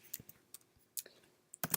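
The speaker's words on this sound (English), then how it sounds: "Typing the equal sign, like you see here," Keys on a computer keyboard tapped while entering a formula into a spreadsheet, a handful of sharp, irregular clicks at close range in a quiet room.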